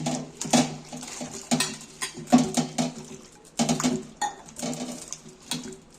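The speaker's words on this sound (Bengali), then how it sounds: "এইবার আমি কাটা আলুগুলো আমি আর একবার ধুয়ে নিচ্ছি" Cut potatoes are rinsed in water in a home kitchen, giving irregular splashes, sloshes and soft knocks that come in bursts, close by and moderately loud, with no speech.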